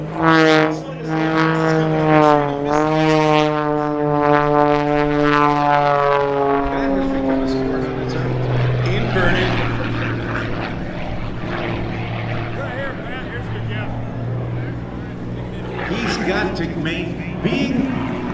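A propeller aerobatic airplane flies at the MCAS Miramar airshow. The engine drone sweeps and bends in pitch as the plane maneuvers, and people talk over the sound throughout.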